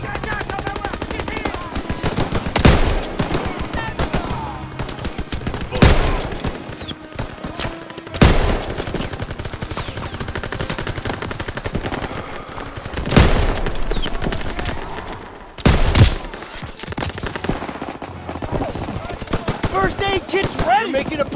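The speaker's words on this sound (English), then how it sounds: "Half-track turret." Half-track turret machine gun in Call of Duty WWII fires loud sustained bursts with short pauses, heavy hits and explosions punctuating the long rattle, alongside game voices.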